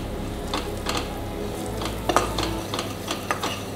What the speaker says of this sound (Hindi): मसाला अच्छे से पकाना है पर कम आँच पे